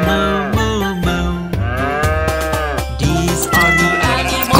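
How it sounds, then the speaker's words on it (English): A cow lows in a children's animal-sounds nursery song, a few long sustained moos set within a loud musical backing with no talk. "And the cow goes moo, moo, moo."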